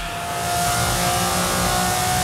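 A car accelerating in the Fortnite video game, its engine revving loud and steady throughout, with no talk over it.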